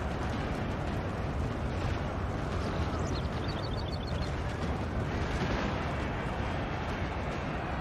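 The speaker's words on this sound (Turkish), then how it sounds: "Er meydanı gümbür gümbür yine." Dense, continuous battle din from Napoleon Total War, with musket volleys and artillery fire merging into a loud, unbroken rumble that holds steady throughout, no talking.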